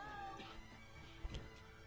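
A startled cat from the 1990 film Ghost gives a faint, muffled meow and a brief scuffle, low in level.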